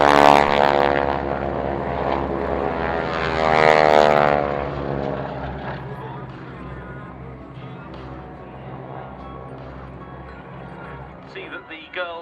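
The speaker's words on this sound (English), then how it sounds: "as they made their circuit into land, and bringing to a close the Breitling Wingwalkers display" Breitling Wingwalkers biplanes circuit in to land at Fairford, their propeller engines droning loud and steady at first, then easing to a lower, fainter hum, with voices speaking over the engine noise.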